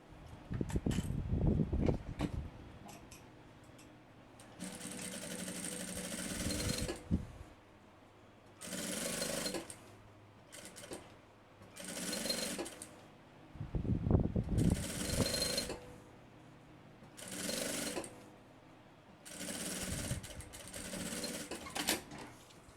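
A sewing machine stitches a backpack seam, running in several loud bursts of rapid mechanical whirring separated by short pauses and handling clicks.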